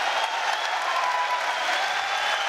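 A crowd at a Polaris 3 jiu-jitsu match in Bournemouth cheers and applauds a bridge-and-roll escape, producing a steady, dense roar of clapping and shouting throughout.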